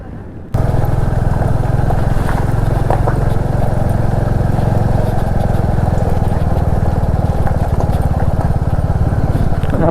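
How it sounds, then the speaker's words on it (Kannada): A Royal Enfield Bullet motorcycle engine runs steadily and loud up close while riding on a road, a continuous low thumping drone with wind noise, without a break for the whole stretch. "ಈ ಥರ ರೋಡಲ್ಲಿ ಬುಲೆಟ್ ಇದು ಸೌಂಡು ನೆಕ್ಸ್ಟ್ ಲೆವೆಲ್ ಕೇಳುತ್ತೆ ಮಾರೆ"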